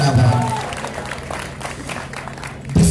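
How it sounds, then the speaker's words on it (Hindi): An audience at an Urdu poetry gathering claps steadily in a dense, close patter, with a voice heard at the start and a louder burst of applause near the end. "तालियां तालियां।"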